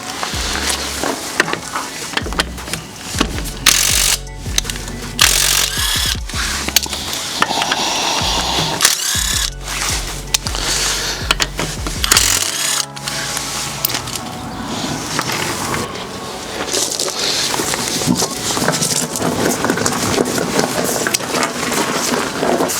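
Wheel coming off a Ford Fiesta ST150 in a garage, with loud, busy clattering, knocking and scraping of tools and metal parts throughout, some sharp impacts and brief pauses, close by and no talking.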